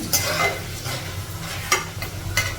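Dried red chilies fry in hot oil for semya pulihora, giving a continuous crackling sizzle with a few sharp spatula or stirring clicks close up and no speech.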